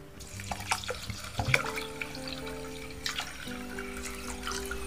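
Water pours and splashes over washed rice in a bowl to soak it, with uneven trickles and drips at moderate loudness and no speech.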